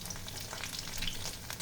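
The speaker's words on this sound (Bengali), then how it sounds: "মাংসগুলো যাতে ফুললি ফ্রাই হয় সেটা একটু খেয়াল রাখতে হবে।" Meat frying in hot oil over low heat, a steady crackling sizzle with light stirring, close and continuous without speech.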